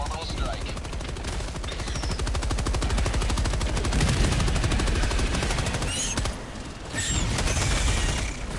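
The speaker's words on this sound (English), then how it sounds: "Firing orbital strike" Orbital strike fired in the video game Helldivers 2: dense, continuous rapid gunfire and explosive booms, loud and sustained, with a brief dip before resuming, amid chaotic battle noise.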